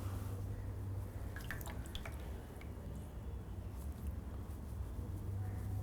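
A sponge cloth being wetted with water to prepare for a bed bath, with a few soft drips and squishy splashes heard close by against a steady low hum.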